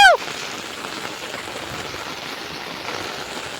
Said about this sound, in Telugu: వాన మామ, చిన్న వాన కాదు